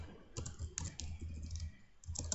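Code is typed on a computer keyboard in quick, close, uneven clusters of light key clicks, with a short pause before a final flurry.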